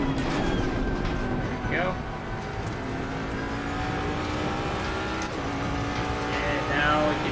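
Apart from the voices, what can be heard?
race car engine upshifting in Assetto Corsa Competizione video game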